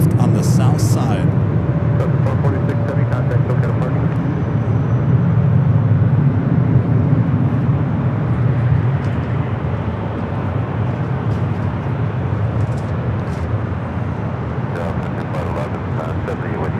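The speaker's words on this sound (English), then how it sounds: "That Japan Airlines flight 61 heading back to Tokyo Narita on a 787-9 Dreamliner, making that left-hand turn on to Bravo" Japan Airlines Boeing 787-9 Dreamliner taxiing and turning onto a taxiway at LAX, a continuous low engine rumble and whine at moderate distance, holding steady over the whole stretch, with someone talking over it.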